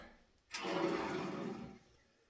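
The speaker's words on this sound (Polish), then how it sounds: "odkręcam wodę i zobaczymy, czy cieknie" Tap water is opened into freshly repaired household plumbing, a sudden rushing hiss of flow that starts sharply, holds steady for just over a second, then cuts off, close and fairly loud.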